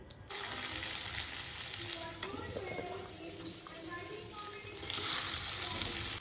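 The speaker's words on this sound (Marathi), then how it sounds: "आता मी मस्त तूप टाकून कढईत बटाटा टाकणार आहे शिजायला, परतायला" Potato pieces frying in ghee in a kadhai, a steady close sizzle with occasional stirring and scraping, and brief background voices.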